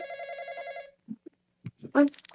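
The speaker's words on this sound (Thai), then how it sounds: "เสียงโทรศัพท์" A telephone rings in a Roblox horror game, a steady electronic trill for about a second, then stops as brief voices and game sounds follow.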